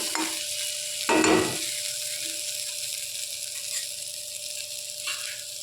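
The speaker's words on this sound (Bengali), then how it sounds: "এভাবে একটু তেলের মধ্যে হালকা করে নেড়ে নিলে খেতে খুব টেস্টি হয়।" Steady sizzle of chickpeas and potatoes frying in oil, with a louder scraping burst of stirring near the start, then a continuous hiss.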